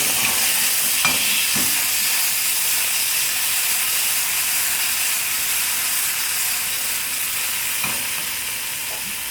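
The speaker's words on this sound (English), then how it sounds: "We're going to saute some tomatoes" Tomatoes sauté in a hot pan, a loud, continuous sizzle and hiss with a couple of faint stirring clicks, and no voices.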